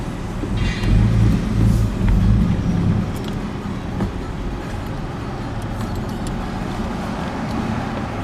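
Car with a freshly repaired exhaust on a formerly raspy six-cylinder, a low steady engine drone with a heavier rumble in the first few seconds, heard close with no talk.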